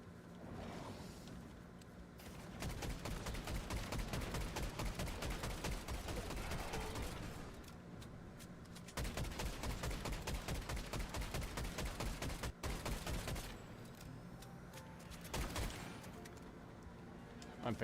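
Rapid OXR rifle fire in Fortnite, long bursts of tight repeated shots in several extended strings separated by brief pauses, loud and close, with some game ambience between volleys.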